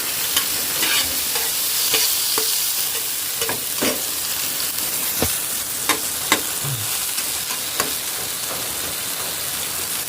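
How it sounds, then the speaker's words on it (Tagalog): Tomatoes sauté in a hot pan in a home kitchen, a continuous sizzle and crackle broken by repeated scraping strokes of a spatula stirring the pieces, close and fairly loud. "Ginigisa na yung kamatis."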